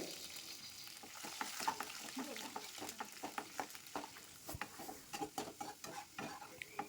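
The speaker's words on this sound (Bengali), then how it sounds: "ওই তেলে এখানে রসুনের কোয়াগুলো হালকা বাদামি করে ভেজে নেব" Garlic cloves fry in hot oil until light brown, a soft close crackle with rapid irregular spoon taps and stirring scrapes that grow busier toward the end.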